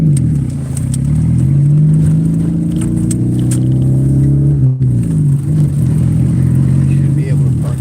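A car engine hums steadily from inside the vehicle as it drives around the block looking for parking, a low droning tone with a brief dip midway, under someone talking.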